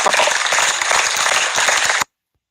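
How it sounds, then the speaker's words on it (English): Steady hand clapping in self-applause, a dense, even patter of claps for about two seconds that then cuts off abruptly to silence; no speech over it. "Self-applause is always good."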